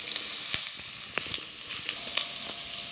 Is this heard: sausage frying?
yes